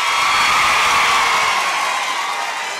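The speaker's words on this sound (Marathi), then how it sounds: "आता आमचे वरचे पहा, वरचे टाळ्या वाजवा एकदा." An upper-gallery audience at a student guidance event claps and cheers in a steady, loud wash of crowd noise that holds for the whole stretch, easing slightly toward the end, with no talk over it.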